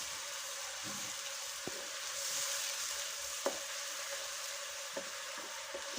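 Chilli chicken sautéing in oil in a pan, made without capsicum: a steady, soft sizzle with occasional clicks of a spoon stirring against the pan, and no voices.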